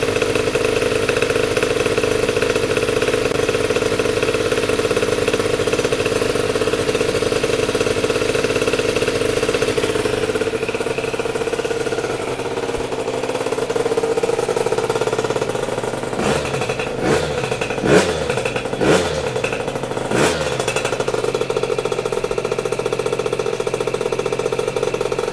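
A 70cc Athena-kitted moped engine runs steadily on a bench, a continuous loud mid-pitched drone that dips briefly, then a few sharp rattling clacks break in near the end.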